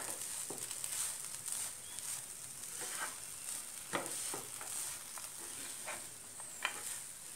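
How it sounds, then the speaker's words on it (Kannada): Poha being stirred in a pan after grated coconut is added: a steady low sizzle with soft, irregular scraping strokes of the spoon, close and moderately quiet, with no voices. "ತೆಂಗಿನ ತುರಿಯನ್ನು ಹಾಕಿ ಮಿಕ್ಸ್ ಮಾಡಿ"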